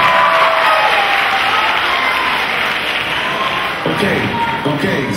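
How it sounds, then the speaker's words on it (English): Students in a school leadership symposium audience clap at length, a thick, continuous patter of many hands that stays loud throughout, with a few heavier thuds near the end. "Clap your hands if you're enjoying yourself so far"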